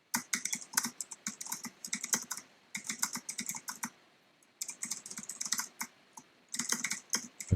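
Fast bursts of clicking on a computer keyboard, typed close up in quick runs separated by short pauses, with no talking.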